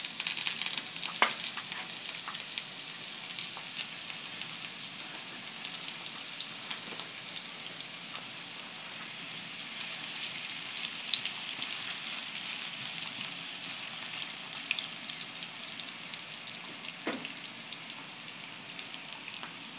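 Food frying in hot oil in a pan before asparagus goes in, a steady, fairly quiet hiss with occasional crackles and pops, no voices.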